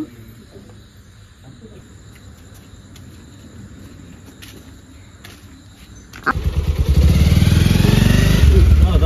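Motorcycle ride on a road with insects chirping in the background; a steady engine hum underneath suddenly swells into a loud, close roar of engine and wind about six seconds in, continuing strongly to the end.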